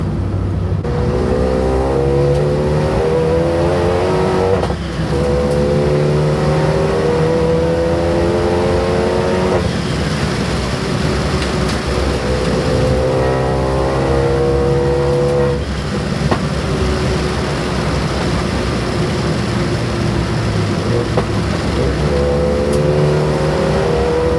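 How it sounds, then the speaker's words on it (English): A turbocharged Renault Megane RS with a forged engine accelerates hard through repeated gear pulls, its pitch climbing and dropping with each shift, loud and close throughout, with no talking. "Turbo sounds great. One last pull before we give her back."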